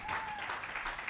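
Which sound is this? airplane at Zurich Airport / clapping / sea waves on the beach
clapping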